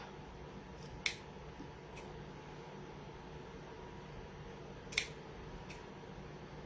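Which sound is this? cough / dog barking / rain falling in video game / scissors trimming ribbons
scissors trimming ribbons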